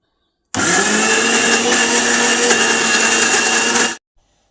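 A mixer grinder whirs loudly and steadily as it grinds soaked lentils into a smooth batter for bori, starting abruptly and cutting off after about three and a half seconds.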